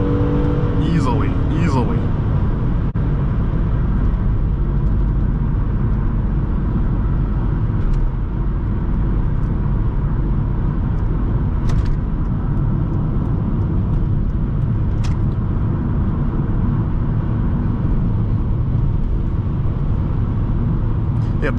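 Steady engine and road drone from inside a 2008 Hyundai Sonata GLS V6 cruising at highway speed, low rumble with mild wind noise, heard beneath ongoing talk from the driver.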